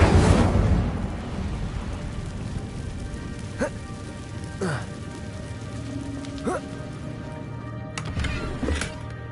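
An Incendio fire spell is cast in Hogwarts Legacy, a crackling burst at the start followed by lingering fiery crackle, with chimes and swooping tones and a voice talking over it.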